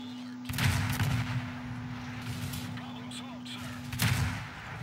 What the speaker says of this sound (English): Miyogi shooting high explosive at him for some reason